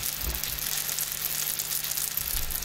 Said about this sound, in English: Now put some oil into a frying pan and heat it up, then add in your potato cakes.